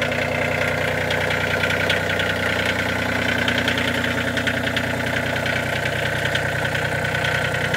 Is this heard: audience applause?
no